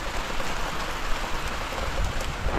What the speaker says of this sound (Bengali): পিছন থেকে প্রচুর বৃষ্টির ঝাটকা আসছে, ছাতা নিয়ে আছি আমি, ছাতাতে কোনো কাজ হচ্ছে না